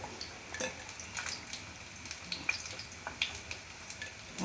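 Bottle gourd kofta fry in hot oil in a pan with a soft, steady sizzle, while a utensil scrapes and taps lightly now and then as the pieces are stirred.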